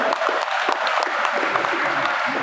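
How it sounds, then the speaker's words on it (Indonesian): An audience at a Christmas celebration in Tapanuli Tengah, Indonesia, applauds a guest with close, loud, continuous clapping that stays steady for the whole moment. "Tepuk tangan untuk beliau."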